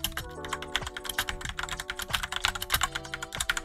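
Rapid clicking of fingers typing on a computer keyboard, close and steady, with music playing underneath.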